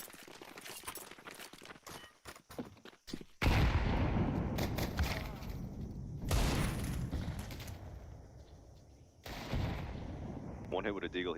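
Desert Eagle pistol shots in the video game Counter-Strike: a quick series of sharp, cracking reports early on, then a louder, sustained noisy wash with further bangs.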